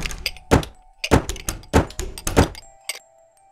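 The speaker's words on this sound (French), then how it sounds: "On y entend essentiellement les placards." Cupboard doors knock and thud in a house recording, a series of sharp, loud hollow bangs in an irregular burst, followed by a ringing metallic tone and one last knock, with no voices.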